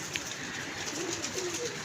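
Pigeons in a loft during winter give low, soft cooing calls over steady background noise, faint and continuous.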